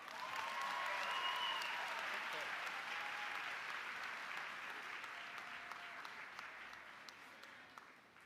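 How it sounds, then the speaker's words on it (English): Bowie State University's Spring 2026 commencement audience gives a round of applause, a broad steady wash of clapping from a large crowd that slowly tapers off, with faint voices underneath. "Please join me in another round of applause."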